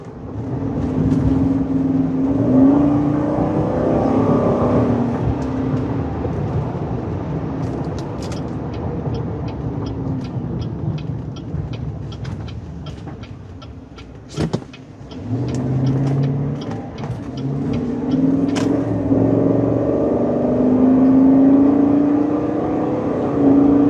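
A 2019 Chevrolet Silverado 1500 High Country pickup driving on the road, a steady engine hum and tyre roar with brief revs and a few clicks, heard from inside the cab.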